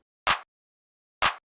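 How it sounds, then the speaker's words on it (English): Roland TR-707 drum machine clap sample, a crisp, snappy electronic handclap struck twice about a second apart, dry and isolated against silence. "Basic 707 clap."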